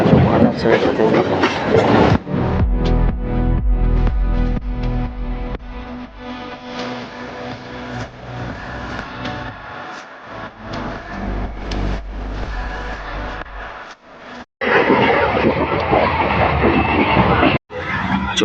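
A passenger train on the Durgapur to Bardhaman line rumbles and rattles steadily on its rails, loud and close, with brief breaks and faint voices in the carriage.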